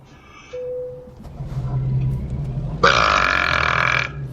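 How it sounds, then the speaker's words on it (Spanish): A man's loud, drawn-out burp rises near the end, following a brief whistle-like tone and a lower grunting sound, with no talk. "Extremadamente modesto el eructo, lo sé."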